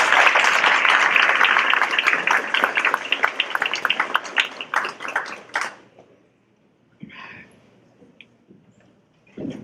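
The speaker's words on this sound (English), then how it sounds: "If we could give one more round of applause to the Golden Coach." A crowd at a student leadership awards ceremony breaks into dense, sustained clapping that fades out after about six seconds, followed by near silence with a few faint stray sounds.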